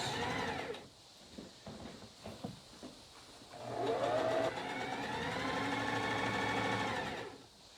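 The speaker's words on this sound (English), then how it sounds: "We're gonna give ourselves a nice little top stitch." Sewing machine top stitching canvas for bag box corners, a few faint handling knocks, then the machine runs in a steady close whirring burst for several seconds before stopping.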